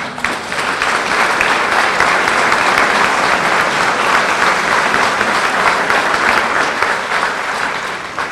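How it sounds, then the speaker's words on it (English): A standing ovation at a formal swearing-in of a police chief and deputy, loud, sustained clapping from a large audience that swells and holds steady before easing off at the end. "You stood up and gave him a standing ovation"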